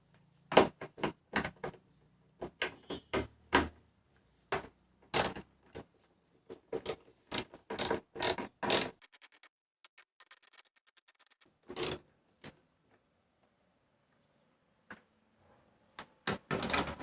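Screws are worked loose from the rear light of a 2018 Subaru Forester, close dry clicks and ratcheting taps coming in irregular clusters with short quiet gaps between them.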